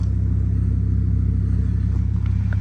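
A 2005 Volvo S40 T5 engine idles steadily up close, a loud, even low rumble holding constant throughout with no revving.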